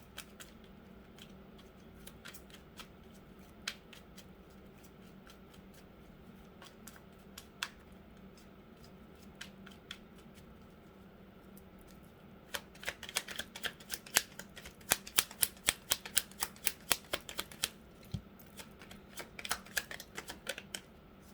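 Tarot cards being shuffled in scattered riffles and taps, sparse at first, then a denser burst of quick flicks in the second half; no talking.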